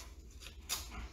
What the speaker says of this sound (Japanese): 今犬がうるさくてすいません